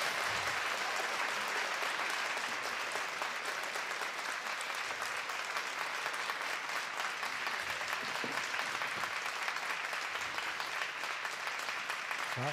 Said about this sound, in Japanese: ファンの声援を浴びながら今下がります。